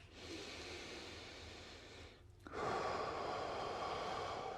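A person takes a slow, steady breath in through the nose, then exhales audibly out through the mouth, close and alone, with no talking.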